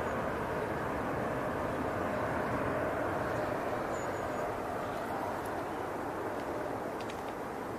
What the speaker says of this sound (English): Got another aircraft coming in.